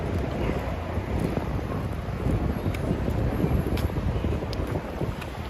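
Wind buffets the microphone on a Manhattan street near Madison Square Park at rush hour, with a constant low rumble and gusty thumps, steady throughout.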